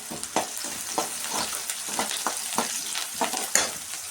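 Garlic fries in a pan with onions for a vazhaipoo poriyal, a continuous close sizzle punctuated by regular scrapes of a spoon stirring roughly every half second.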